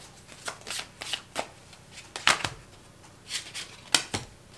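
Shuffling of tarot cards, close irregular riffles and slaps in quick bursts with no talk.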